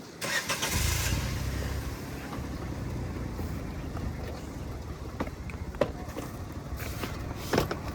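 A booked Ola cab's car engine starts and settles into a steady low rumble, with a few sharp knocks and light clicks close by and no talking.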